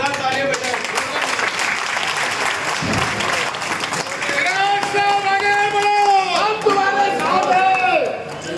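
Audience applause at an election conference in Bhopal, loud and steady throughout, with crowd noise and chatter mixed in and some voices or music rising over it in the second half.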